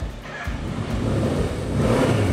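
An old Suzuki motorcycle engine runs steadily while being ridden, a close, continuous low rumble that swells slightly toward the end.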